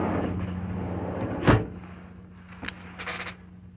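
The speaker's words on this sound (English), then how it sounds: "oh, opening a door." Door opening as a sound effect in an audio drama: a sharp latch click, then a softer knock and brief rattling as the door moves.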